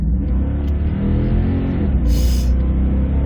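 A Toyota Tundra engine fitted with a throttle controller revs hard up to 5,000 RPM, a loud, close, sustained low roar with a brief hiss partway through.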